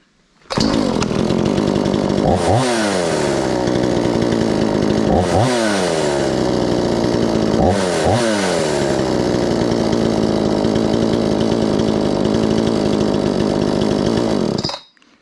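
A Homelite Super XL chainsaw runs loud and close for about fourteen seconds, holding a steady high idle broken by three sharp revs that rise and fall back, then cuts off abruptly.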